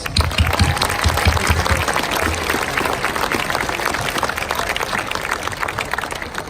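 Sustained, dense applause from a large audience at the 2019 Foley High School graduation ceremony, a steady roar of many hands clapping throughout with no talking over it.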